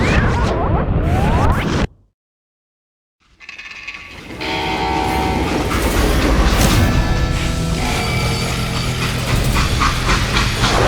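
A train runs in the Western video game Call of Juarez: Gunslinger, a steady rumbling roll with clanking wagon noise that cuts to silence for about a second, then returns loud and continuous under music-like tones.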